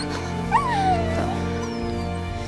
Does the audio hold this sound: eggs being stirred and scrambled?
no